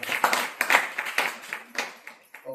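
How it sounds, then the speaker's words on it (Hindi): A church congregation at a Wednesday worship service claps together in a steady, fairly close rhythm of sharp hand claps that tapers slightly toward the end. "ताली बजाइए"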